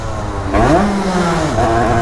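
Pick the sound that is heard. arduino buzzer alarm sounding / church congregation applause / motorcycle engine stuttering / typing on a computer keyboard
motorcycle engine stuttering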